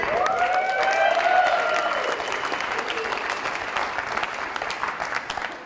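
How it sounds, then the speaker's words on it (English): An audience at a summit greets speaker Dave Craig with steady, dense applause, while bright whooping cheers ring out over the clapping early on before it continues evenly. "Let's give him a round of applause"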